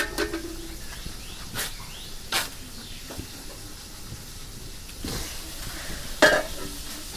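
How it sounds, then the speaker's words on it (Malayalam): Curry leaves dropped into hot oil give a steady low sizzle, broken by a few louder crackling bursts and scraping stirs, with faint chirps in the background. "ഇതാ ഇതിൽ കറിവേപ്പില ഇട്ടേട്ടോ"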